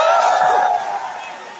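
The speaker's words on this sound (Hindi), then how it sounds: "जोरदार तालियां विनायक पांडे" Audience at a Vestige achievement and anniversary celebration claps and cheers as a speaker is welcomed. The crowd noise is loud and dense at first, then eases slightly but keeps going steadily to the end.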